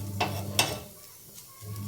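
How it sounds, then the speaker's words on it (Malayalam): Ragi dosa with butter cooks on a pan with a soft, low sizzle, and two quick scraping clicks of a utensil come early on, close by. "റാഗി ദോശയിൽ കുറച്ച് വെണ്ണ ഇട്ടിട്ടുണ്ട്, നന്നായിട്ടൊന്ന് വേവണം"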